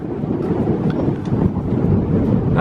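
Strong desert wind blows through a Nevada ghost town, a continuous loud rumbling roar buffeting the microphone with gusty surges and no voices.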